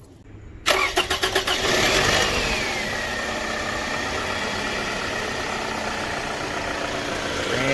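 A 2010 Toyota Camry engine with a freshly replaced alternator cranks briefly with a rapid, loud chugging, then catches and settles into a steady, close idle with no talk.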